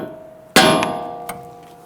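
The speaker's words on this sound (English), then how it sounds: "you can normally use a hammer and strike the knuckle to release the ball joint here" A hammer strikes the steel steering knuckle of a 2011-2023 Dodge Charger front suspension to pop loose the ball joint: one sharp metallic clang with ringing decay, then a lighter second tap, close and loud with no talk.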